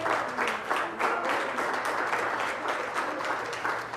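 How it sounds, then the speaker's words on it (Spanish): A church congregation breaks into loud, sustained applause, many hands clapping in a thick, continuous patter that fills the room from start to finish. "Denle un aplauso al Señor."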